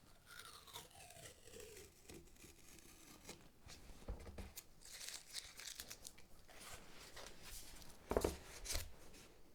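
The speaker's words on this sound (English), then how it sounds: "he removed the tape, slowly but with a firm hand" Tape is peeled slowly and firmly off a veneered oak cabinet door frame, giving close, crackling, tearing rasps in uneven bursts that swell and fade over several seconds, with no voices.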